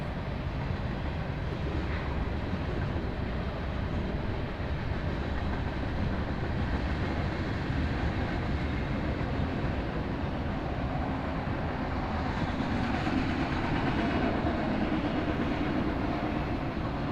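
A freight train rolls through Cajon Pass with a continuous broad rumble and roar, steady and moderately loud throughout, with no voices.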